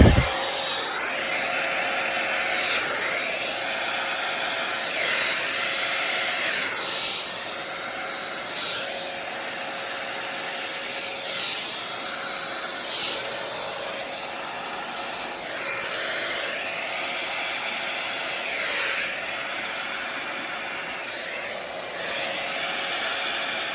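A hair dryer blows a steady, close hiss across wet acrylic paint in a small Dutch pour, its airflow rising and falling in slow repeated sweeps over about twenty seconds.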